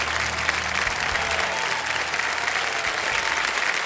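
Studio audience applauds on the KBC Season 14 game show, a steady dense clapping that fills the whole stretch at an even level.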